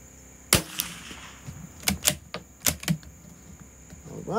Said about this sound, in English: we are shooting Cz457 Varmint and SK pistol match 50 yards